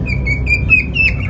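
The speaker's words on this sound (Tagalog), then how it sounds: "Kumakanta pa yung isang ibon natin," A pet bird sings close by in a run of bright, repeated high whistled notes, loud and clear over a low background rumble.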